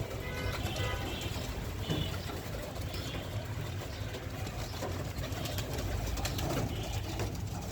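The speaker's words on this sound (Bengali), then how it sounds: "কবুতর পুরো পাগল হয়ে গেছে" Hungry pet pigeons crowd around at feeding time, cooing steadily in a dense, continuous chorus with light shuffling and wing sounds.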